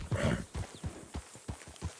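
Horse hooves clip-clop in a steady, fairly quick rhythm on a hard surface, moderately close, with faint background noise and no speech.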